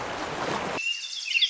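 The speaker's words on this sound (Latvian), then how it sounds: "jūras skaņas" Sea waves wash in a brief, full surge of rushing surf that cuts off abruptly partway through, leaving only faint high chirps behind.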